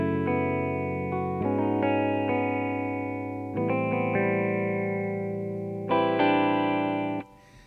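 Yamaha MX49 keyboard playing Motif guitar voices, sustained chords that shift every second or two through seven seconds, bright and layered with effects, then cutting off near the end; no talking.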